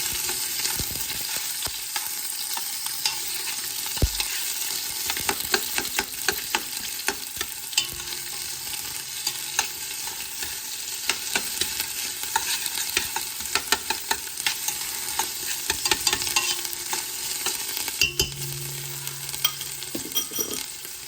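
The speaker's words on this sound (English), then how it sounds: "First, we fry or sear this onion." Onion frying in a pan, a steady crackling sizzle with scattered pops and occasional stirring scrapes, close and alone throughout.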